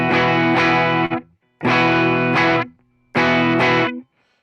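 An electric guitar through a Walrus Audio ACS1 amp simulator plays edge of breakup tone, three loud strummed chords, each ringing about a second before cutting off into brief silence.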